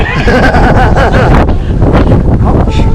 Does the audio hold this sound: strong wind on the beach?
yes